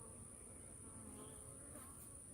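A swarm of honey bees hums in a continuous, faint, steady drone during a hive capture, with no other sound standing out.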